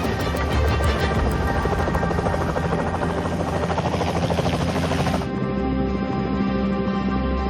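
A rescue helicopter carrying six people lifts off from a beach as the tide comes in, its loud, steady rotor and turbine roar filling the scene close up, with a slight shift in tone partway through and no voices.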